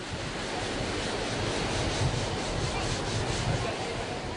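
Surf breaking steadily on the beach at Jimbaran, Bali, beside a fish market on the Bukit peninsula under strong wind, a continuous broadband wash with low rumbling swells and wind buffeting, no talk.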